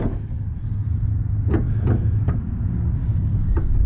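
Troy-Bilt XP zero-turn riding lawn mower engine running steadily and revving after a tune-up, a loud continuous low drone with a few brief sharp clicks or bangs on top, no talking.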